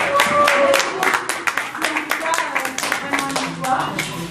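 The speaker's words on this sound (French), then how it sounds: "En tout cas, veuillez applaudir." A crowd applauding steadily at a press conference in Paris, dense clapping throughout with some scattered voices mixed in.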